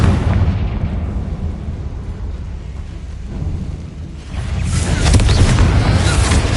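A Confringo spell explodes in the Hogwarts Legacy video game: a loud booming blast erupts after a dense rumbling bed and keeps roaring to the end.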